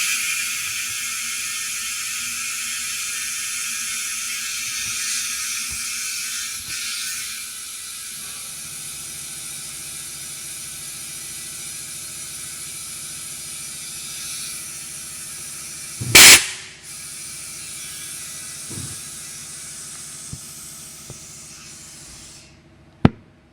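Air hisses steadily out of a small tyre on a Pajero Mini once its valve core is pulled, a long, close, even rush that fades over several seconds, broken by a sharp knock and a few faint clicks.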